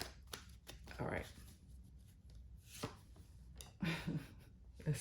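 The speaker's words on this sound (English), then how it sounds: "Oh, these cards do not want to shuffle." Tarot cards are shuffled near the microphone in a few separate bursts of soft riffling and slapping, with short quiet pauses between them.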